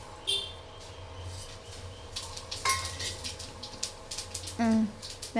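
Fennel seeds hit hot oil in a pan at home, giving a light sizzle mixed with spoon-stirring and clinks of utensils, while people talk close by.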